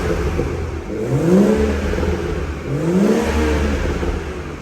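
A BMW 440i M Sport with an automatic gearbox revs twice through its exhaust with the left tailpipe valve open, each rise a throaty swell that fades back to idle, loud and close with no talk.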